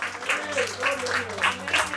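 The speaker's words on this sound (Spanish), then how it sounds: "Rinden un aplauso, aleluya, de alabanza, de honra y de gloria al que vive" Church congregation applauding during a worship service, with steady clapping throughout under loud overlapping voices.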